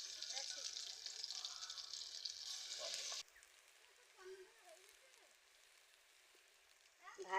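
Coriander leaf fritters frying in a home kitchen make a soft, crackling sizzle for about three seconds, then it cuts to a much quieter background with faint, brief sounds.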